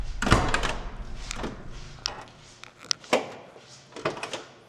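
Car door on a 1972 Chevrolet Chevelle SS with new parts opening and closing several times, a sharp thunk near the start followed by quieter latch clicks and a few more soft thuds, close and alone.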